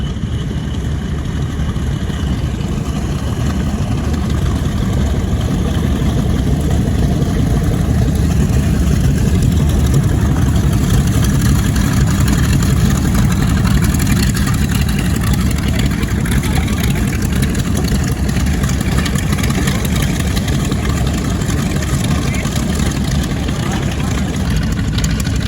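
A B-17G and a B-25J World War II warbird at an air expo rumble with a loud, continuous low engine drone that holds steady and close.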